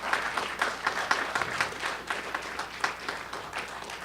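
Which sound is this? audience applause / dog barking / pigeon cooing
audience applause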